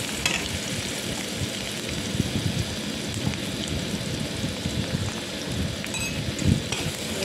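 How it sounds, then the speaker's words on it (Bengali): Turmeric and salt frying in oil in a pan give a continuous, rain-like crackling sizzle at even volume, with occasional louder pops and stirring sounds. "নুন দিয়ে একটু ভালো করে ভেজে নিলাম"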